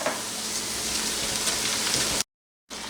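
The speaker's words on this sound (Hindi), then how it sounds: "इसमें लहसुन अदरक की पेस्ट डाल के पका लेते हैं 1 मिनट और" Garlic ginger paste frying with light golden onions for a fish curry gives off a loud, steady, dense sizzle up close, then a brief silent gap before the sizzle returns.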